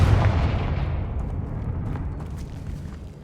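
Confringo fire spell explosions in the video game Hogwarts Legacy, a loud booming blast at the start whose rumbling roar slowly decays over about three seconds, with faint crackles scattered through the tail.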